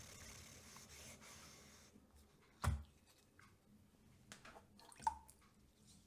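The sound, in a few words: rubbing water stone on a Skerper flattening stone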